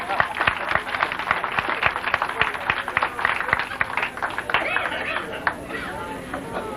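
Audience at a hypnosis stage show breaks into applause, a dense patter of clapping mixed with crowd chatter, fairly close and steady before tapering off.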